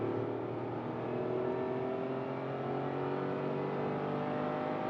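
A 2023 Tata Altroz iCNG hatchback engine revs hard toward 6000 RPM in first gear while accelerating from a standstill, a loud, steady, rising drone close up throughout with no talk.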